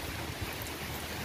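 Steady rain falls outdoors at dusk near a coconut-shell charcoal kiln, a dense continuous hiss with a low rumble underneath, fairly quiet and even throughout, with no voices.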